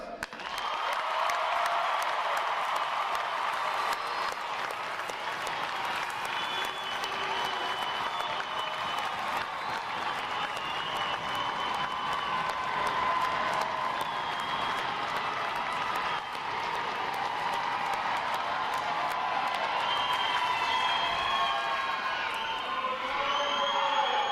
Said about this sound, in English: let's give a round of applause to the 10 other graduating divisions today